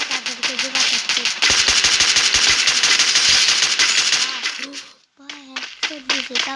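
Rapid automatic gunfire from a shooting video game roars in long dense bursts, loud and close, then breaks off into scattered shots; a voice talks over the start and end.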